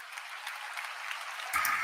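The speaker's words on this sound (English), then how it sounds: "you guys clapped too soon" An audience breaking into applause, a soft patter of many hands at moderate distance that swells briefly louder near the end.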